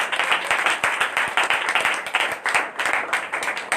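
A church congregation at a Sunday prayer meeting claps loudly, with dense, rapid, uneven handclaps holding at a steady level throughout.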